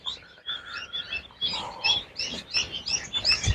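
Ducklings chirp in a table hatcher holding about 2000 hatchlings, a dense overlapping chorus of high, bright peeps with steady repeated calls close by and no talking.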